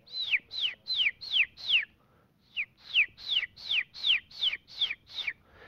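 A person imitates the call of a quail chick in distress: a rapid series of about a dozen high, sharp descending whistled chirps, evenly spaced with one brief pause, close and clear against a quiet background.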